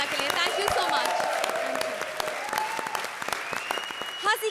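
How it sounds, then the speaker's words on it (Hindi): Loud applause from a studio audience on a televised Indian comedy show, dense clapping sustained throughout with a voice briefly audible over it. "जोरदार तालियां हो जाए राजीव और सुगंधा के लिए"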